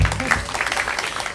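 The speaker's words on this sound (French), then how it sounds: "Applaudissez pour vous." An audience breaks into applause: a dense, steady patter of many hands that fills the short moment at an even level, with faint voices mixed underneath.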